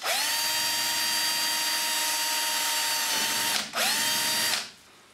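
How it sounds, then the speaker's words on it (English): A power drill whines loudly and steadily while drilling a cable hole through the top of a burglar alarm PIR sensor, stops briefly, then spins up again for a second short burst before cutting off. "I'm just going to drill an hole through the top there for the cable."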